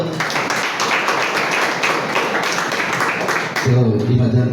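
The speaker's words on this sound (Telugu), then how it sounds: "ఒకసారి చప్పట్లు కొడతారు." A church congregation claps together during a service, a dense, loud, sustained wash of many hands close by, giving way at the end to a voice.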